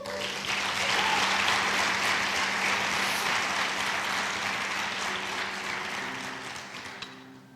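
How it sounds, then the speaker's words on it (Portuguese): Church congregation at a Vox worship service breaks into sustained applause, a dense, steady wash of many hands clapping that holds strong for several seconds before gradually thinning out toward the end. "Dá um aplauso ao Senhor Jesus então."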